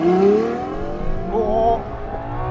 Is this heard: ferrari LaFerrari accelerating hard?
yes